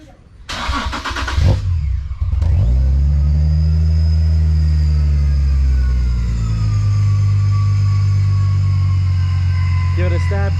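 A Datsun 260Z cranks with a brief starter whirr, catches and roars to life, then settles into a loud, steady, throaty idle close by, with a faint rattle near the end.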